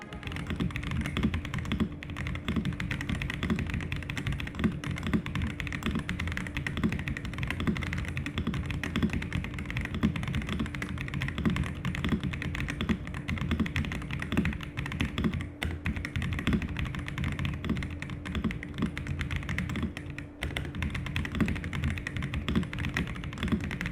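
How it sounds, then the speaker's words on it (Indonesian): Steady, continuous typing on a Pressplay Rover 84 V4 Lite mechanical keyboard, dense clicky keystrokes close up, with no speech. "coba mending kalian dengerin aja langsung gimana suara dari ketikan keyboard ini sendiri"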